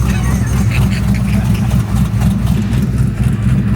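A car with an 8.3 engine swapped onto an LS idles at a car show, giving a loud continuous low rumble with steady lumpy pulsing, while voices and crowd noise mix in underneath.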